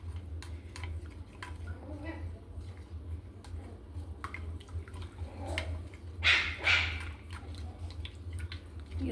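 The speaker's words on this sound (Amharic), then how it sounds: "እየተጫጫፉ ነው ውሾች።" Dogs at home give faint, intermittent barks and scuffles, with a louder burst near the end. A voice is heard now and then.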